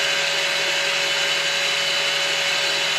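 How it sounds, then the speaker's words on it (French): An electric mixer whips egg whites for a homemade chocolate mousse, a steady, unbroken whirring hum at even loudness throughout with no talking. "les blancs sont en train de monter et là ils sont juste mousseux"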